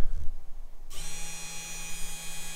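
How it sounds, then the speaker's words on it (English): The spindle of a Genmitsu 4040 Reno CNC router switches on after a brief clatter, then settles into a steady, fairly quiet high-pitched whine with a low hum underneath. "So this lets me turn on the spindle,"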